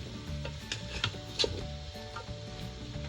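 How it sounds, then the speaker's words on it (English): Chopped fresh garlic and half a large onion sauté in a Ninja Foodi, giving a soft, steady sizzle with a few faint stirring scrapes under a low background hum. "And we're going to saute this for about 10 minutes."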